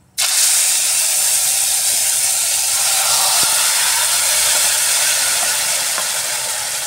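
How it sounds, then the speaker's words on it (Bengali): Kangla fish marinated in mustard drops into hot oil with fried fenugreek, setting off a sudden, loud, sustained sizzle that holds steady and fades slightly toward the end. "এবার এর মধ্যে আমি শস্য দিয়ে মেখে রাখা মাছ দিয়ে দিচ্ছি"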